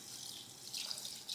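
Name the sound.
water running from tap while washing rajma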